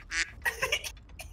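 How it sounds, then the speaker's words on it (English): Several loud, close duck quacks in quick uneven bursts, with a brief nasal honk near the end. "It's the ducks."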